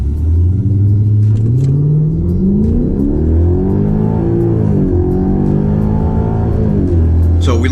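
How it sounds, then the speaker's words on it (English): A 2012 Hyundai Genesis 5.0 R-Spec with about 140,000 miles launches hard, its V8 note climbing steadily through a loud, continuous rev sweep that dips and rises again as it accelerates, with faint talk in the background. "we're gonna launch it a little harder this time"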